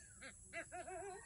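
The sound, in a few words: eagle's call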